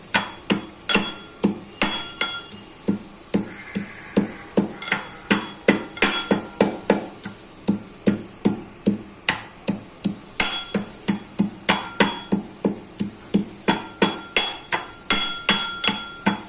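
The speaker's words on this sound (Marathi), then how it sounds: "लसूण आणि मिरची हे काही वाटून घ्यायचे, कुटून घ्यायची." Green chilies and garlic crushed by pounding, struck in a steady run of sharp, close thuds about two to three per second with a slight ringing edge, continuing without talk.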